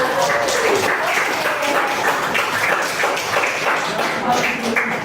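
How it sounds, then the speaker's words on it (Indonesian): Applause for a group of students in a classroom, a steady spread of clapping that runs the whole time with voices mixed in. "Beri aplaus untuk kelompok"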